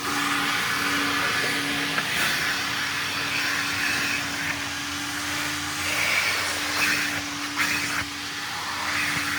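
Coin-operated car wash vacuum running steadily, a loud continuous whooshing hiss with a constant motor hum, close by and unbroken.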